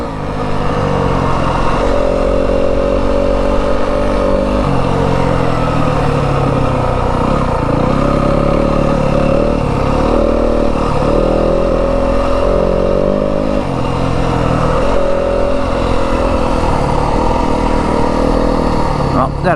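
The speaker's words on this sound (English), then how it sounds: "See how we're in third now, it's lugging. So drop it down to second here for this stuff." A 2025 Yamaha WR250F dirt bike on a rough Arizona desert trail, its engine lugging in third and then shifted down to second, a loud continuous close-up drone whose pitch steps and wavers.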